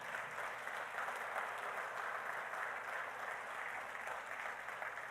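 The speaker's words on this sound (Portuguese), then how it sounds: "Você pode aplaudir a Deus?" A church congregation applauds during a sermon, a steady, dense wash of clapping from many hands that holds evenly throughout, fairly soft and slightly distant with no voices on top.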